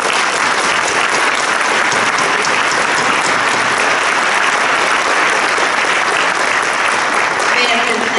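Loud, sustained applause from an audience at an MLK celebration honors the organizing group, thick and unbroken across the whole stretch.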